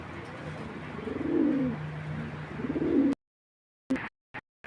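Foreign pigeons coo in deep, rolling bursts close by, two long coos followed by a sudden cut to silence and a few brief fragments.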